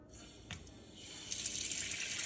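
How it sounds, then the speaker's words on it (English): Tap water rushes on, splashing into a cooking pot with a bright, hissing gush that grows louder after a brief pause. "I'm just gonna use our water here, and I'm gonna fill this up."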